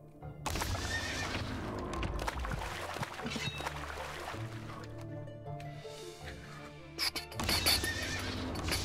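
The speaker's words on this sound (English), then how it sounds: "Sounds like horses are coming" Horses whinny and hooves clip-clop in the video game CD 2: Trap Master, several loud neighs over a galloping rhythm with other game effects around them.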